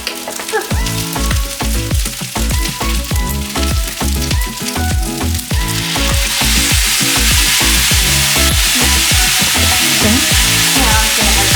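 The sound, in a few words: egg fried rice with corn sizzling in a pan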